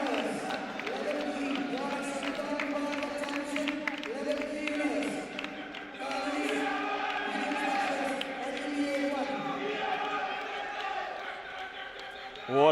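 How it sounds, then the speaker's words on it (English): A crowd cheering and clapping after the B level final of the UAE Badminton Club Championships 2022, steady and moderately loud, with voices calling out through the noise. "You can hear and see the cheering going on in the background."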